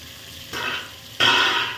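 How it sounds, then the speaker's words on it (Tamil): Sliced onions sautéing with rock salt in a hot pan, a soft sizzle that jumps to two louder bursts of frying as the pieces are stirred, heard up close with no talking. "நல்லா ப்ரௌன் கலரில் வதக்கி விட்ருங்க"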